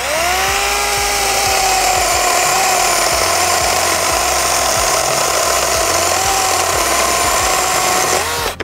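A Greenworks 24V battery chainsaw whines loudly and continuously up close as it cuts, its pitch shifting slightly under load, with rhythmic knocking beneath, before stopping abruptly at the end.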